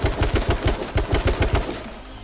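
Rapid bursts of Magnum gunfire in the video game H1Z1, a quick string of about a dozen sharp, evenly spaced shots that are close and loud before fading out.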